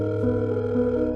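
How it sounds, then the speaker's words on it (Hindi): A steady telephone dial tone sounds throughout a phone call being placed, a continuous hum with layered pitches holding level from start to finish, with no talking. "तब अनिका ने फोन निकालकर राजलक्ष्मी को कॉल किया।"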